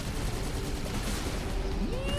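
Continuous gunfire from a Halo MCC co-op match, a dense stream of rapid shots at steady loudness, with electronic game tones sweeping over the top and no speech.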